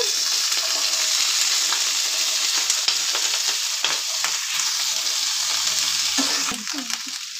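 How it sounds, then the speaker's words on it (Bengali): Spring onion stalks frying in a little oil in a pan, a steady close sizzle with brief stirring scrapes and clatters, alone without talk, settling slightly quieter toward the end. "অল্প একটু তেল দিচ্ছি, দিয়ে পেঁয়াজ কলিগুলো ভেজে নেবো একটু"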